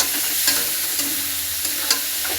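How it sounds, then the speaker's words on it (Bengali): Shrimp with salt and turmeric frying in a pan, a steady close sizzle broken by a few sharp scrapes as a spoon stirs, with no one talking. "এইভাবে নাড়াচাড়া করে একটু ভেজে নেব"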